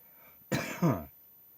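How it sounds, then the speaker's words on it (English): Two quick, close coughs in succession, rough and throaty, in an otherwise quiet room. "cough my lungs up"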